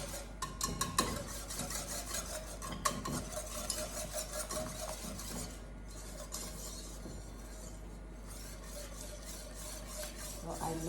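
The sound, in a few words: whisking a sauce in a pot for mac and cheese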